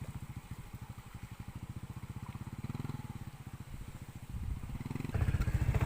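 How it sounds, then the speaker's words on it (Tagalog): A motorcycle struggles along a muddy road, its engine chugging in a steady, rapid low throb that surges and grows louder toward the end, with clattering mixed in. "Nahirapan yung motor ko dito."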